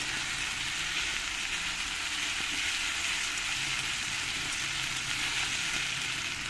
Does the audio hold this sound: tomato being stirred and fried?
yes